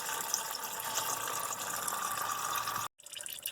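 Engine coolant runs from a disconnected hose on a BMW 530xi, a steady close trickle and splash of liquid that cuts off briefly near the end and then resumes more faintly, with no talking.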